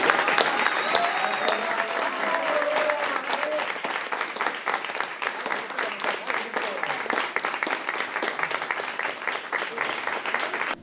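Sustained applause from an audience at a school funding event in Arequito, Argentina, dense and steady clapping throughout with a faint voice briefly audible early on.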